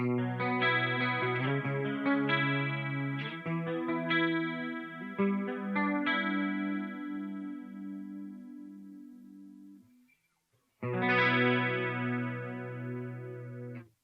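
Clean electric guitar through a chorus effect on a Line 6 Helix plays sustained chords and notes alone, ringing out and fading to near silence around ten seconds before a fresh strummed chord returns loudly.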